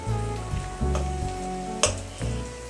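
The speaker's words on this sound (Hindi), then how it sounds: "हमारा ये बघार या तड़का जो भी है वो रेडी हो चुका है।" Tadka tempering sizzles steadily in a hot pan for a leftover rice dish, a close continuous frying hiss with a few sharp spits and pops and no talking.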